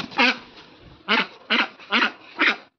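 A female Chinese duck quacking while being weighed, five loud, close, harsh quacks at roughly half-second intervals, each short and raspy, with quiet gaps between.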